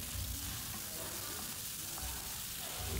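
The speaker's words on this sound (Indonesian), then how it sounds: "Tujuannya supaya lemak babinya ini keluar ya teman-teman. Minyaknya keluar bercampur dengan minyak goreng" Pork sizzling in hot cooking oil as its fat renders out, a loud, constant close frying crackle with light stirring and no talk.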